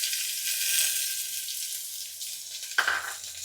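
Sliced onion hitting a hot pan of oil for vegetable pulao gives a steady, close sizzle throughout, with a sharper burst of crackling near the end as the onion goes in.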